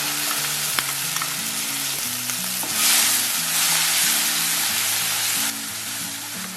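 Tomato chutney paste stirred in a hot pan sizzles loudly and continuously up close, with a low steady tonal hum beneath the hiss and a slight swell midway.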